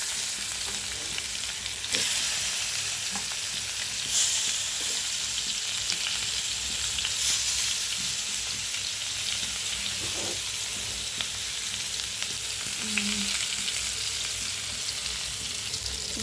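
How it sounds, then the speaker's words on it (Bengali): Rohu fish fries in a pan with a loud, unbroken sizzling hiss, joined now and then by soft clatters and bubbling spits over a long stretch without speech. "মাছগুলো ফ্রাই করে নেবো"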